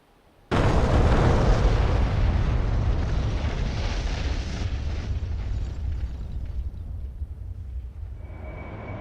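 Four JDAM bombs dropped from a Harrier in the DCS flight simulator strike their target, a sudden loud blast that swells into a long rumbling roar and slowly fades with the steady drone of the aircraft underneath.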